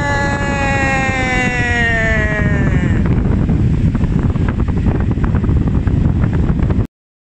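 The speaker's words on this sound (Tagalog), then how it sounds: "dito na tayo sa floor fan industrial Westinghouse" A repaired Westinghouse industrial floor fan runs with a strong, rushing whoosh of air, its motor whine gliding downward early on, then a steady buffeting roar until it cuts out abruptly near the end.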